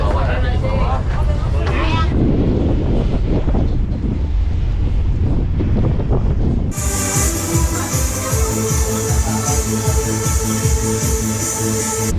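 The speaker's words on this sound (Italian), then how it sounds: "Qui ci sarà un po' di vento" Strong coastal wind buffets the microphone near the port town of Ketapang in Indonesia, a loud continuous rumble that runs steadily before a sudden shift to a denser, harmonic-rich roar in the second half.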